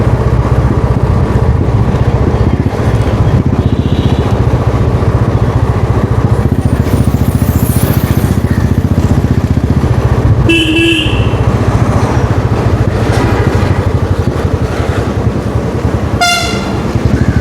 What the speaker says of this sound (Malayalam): പുത്തൻ ഓർഡിനറി ബസ്, നാഗർകോവിലിലെ പുത്തൻ ടൗൺ ബസ്സാണ് ഓർഡിനറി